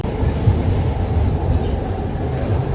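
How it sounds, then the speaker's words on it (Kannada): Bangalore metro train running into a station, a loud steady low rumble and whine of the carriage heard from inside, continuous without breaks. "ರೈಲು ಈಗ ದಾಸರಹಳ್ಳಿಗೆ ತಲುಪಲಿದೆ."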